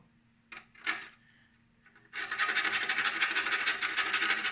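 Fresh nutmeg grated as a garnish for a painkiller cocktail: a few light taps and scrapes, then a continuous close, bright, rasping grating sound that carries to the end.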